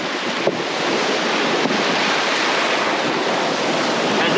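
Rough ocean surf washes onto a beach in a constant loud roar of breaking waves, with wind buffeting the microphone and no voices.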